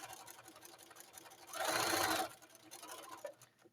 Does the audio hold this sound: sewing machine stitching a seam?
yes